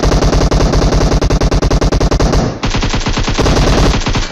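Rapid automatic gunfire from a battle royale video game rattles in loud, close bursts, first a fast steady stream, then a second weapon firing in a slightly slower, heavier rhythm.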